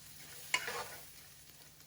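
Chopped onion and ginger hit hot oil in a pan with a soft sizzle and are stirred briefly, the frying settling to a quiet steady hiss, while cooking for a Peruvian lomo saltado.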